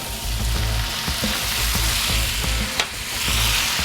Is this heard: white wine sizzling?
yes